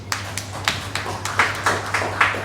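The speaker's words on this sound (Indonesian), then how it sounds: "tepuk tangan untuk Rene Books." A few people clap unevenly at a talk about a book publisher, sparse handclaps roughly every quarter second over a steady low hum, fairly faint.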